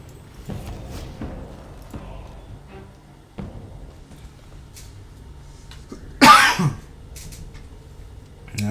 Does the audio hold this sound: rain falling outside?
no